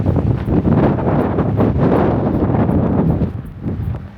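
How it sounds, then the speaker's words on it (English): Strong mountain wind gusts across a snowy slope, a loud, rumbling buffet battering the microphone in surging waves with no speech. "And the wind was so strong. Oh, no, it's coming again."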